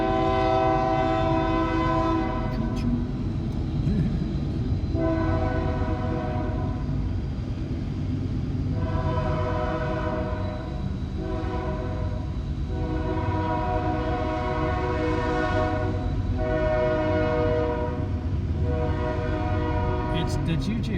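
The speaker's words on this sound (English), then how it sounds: "We have a train." A train passes close by, its horn sounding in a sustained, loud tone that pulses and swells over about twenty seconds, with a steady rumble of rail cars running underneath.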